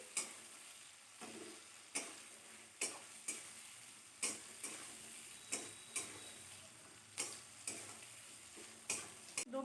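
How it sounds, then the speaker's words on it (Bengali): Onion and tomato fry in a pan for egg do pyaza with a steady soft sizzle, broken by regular scraping stirs about once a second. "টমেটোটা একটু ভাজা হতে থাকুক"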